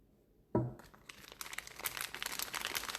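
Small cheap plastic bags handled while making whipped shea butter, with a sharp rustle at first and then steady close crinkling that builds and continues without speech.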